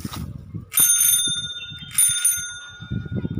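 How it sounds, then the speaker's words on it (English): An old, rusty Hero Gunner bicycle bell rings twice, two bright metallic trills close by, each ringing out briefly, with faint rustling between and after. "this is the bell of the bicycle."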